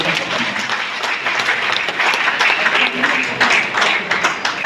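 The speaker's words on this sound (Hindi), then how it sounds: "एक बार सर के सम्मान में आप लोग ताली बजाइए" Steady, dense applause from an audience at a meeting in a hotel hall, loud and close, sustained without breaks for several seconds with some voices faintly underneath.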